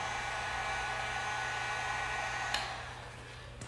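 A heat gun blows steadily on the corner of a black and red vinyl wrap stripe on a car, a continuous close airy roar with a couple of faint clicks near the end.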